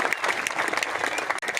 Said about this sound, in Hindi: एक बार मुझे ताली बजा के आदेशित कर दीजिए।